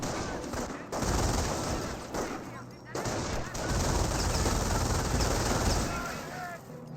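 An MG42 machine gun in Company of Heroes fires dense, rapid bursts of rattling gunfire with brief pauses between them, loud and close, while a voice talks over the battle noise.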